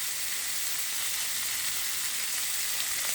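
Eggs fry in a pan for a snake gourd and teasel gourd egg bhaji, a steady close hiss and sizzle with no voices.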